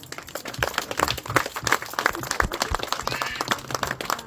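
Congregation in a church service clapping steadily in dense, lively applause, loud and close throughout, with voices mixed in among the clapping.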